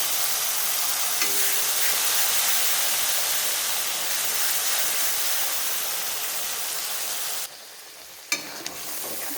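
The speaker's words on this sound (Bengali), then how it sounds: "এখন আমি বেটে রাখা মশলাটা এখানে ঢেলে দেব।" Ground spice paste with cumin sizzles hard in a hot pan, a loud dense frying hiss that holds steady, then cuts off briefly before a sharp clatter and a quieter hiss resume, close and without talk.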